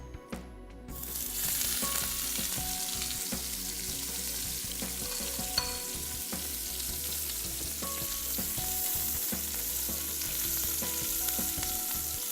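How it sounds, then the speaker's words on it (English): Pollock fillet frying skin side down in a hot pan for an Alleppey-style curry: a continuous close sizzle with light crackles, starting abruptly after a brief quiet moment and holding steady, with no voices. "for fish like this, fry the skin side down"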